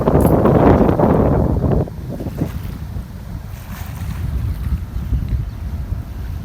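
Strong cold wind gusting beside a flooded work site, a loud blustery rush buffeting the microphone at first, then easing into a steady lower roar of wind and moving water.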